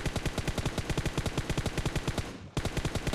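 Rapid automatic gunfire in a mobile battle-royale shooter, loud and close: a steady stream of evenly spaced shots, one short dip near the end, then the burst resumes, with no talk.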